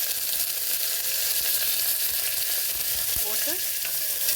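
Curry leaves dropped into hot oil already holding popped mustard seeds, chana dal and broken dried red chillies, frying for usili, give a steady close sizzle and crackle with a brief louder burst of spitting partway through, no talking.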